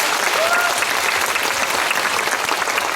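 Audience applause at a live movie event in a cinema, dense steady clapping from a crowd filling the whole stretch at a constant level.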